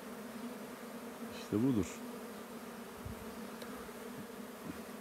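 Bees hum steadily around a beekeeper standing among them outdoors, a low continuous buzz with one louder pass close by, and a brief voice heard over the swarm.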